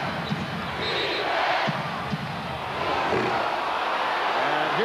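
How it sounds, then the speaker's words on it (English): Basketball arena crowd during a 1995 NBA Finals game, a steady dense roar of many voices with rhythmic chanting swelling throughout, continuous and loud with no pauses. "The chant of defense from the crowd."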